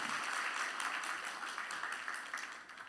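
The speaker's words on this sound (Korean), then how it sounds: "세 분에게 격려의 박수 부탁드립니다" A church congregation claps in encouragement for three newly introduced ministry staff, a dense, soft patter of many hands that fades gradually toward the end.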